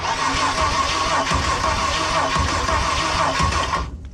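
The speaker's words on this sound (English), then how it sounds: "So doesn't sound like it's cranking too hard, but like I say, it's on the jumper leads." A Ford Barra engine running on jumper leads, cranking and catching into a steady loud rumble that holds nearly throughout, then cuts off abruptly near the end.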